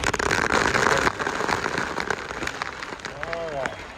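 Water pours down steadily in a continuous broadband rush onto people at Disney's Typhoon Lagoon water park, with a voice briefly audible near the end.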